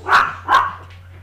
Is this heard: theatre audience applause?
no